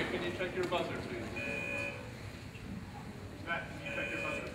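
A quiz buzzer at a school math competition assembly gives short electronic tones, one near the middle and another near the end, heard against room noise and people talking.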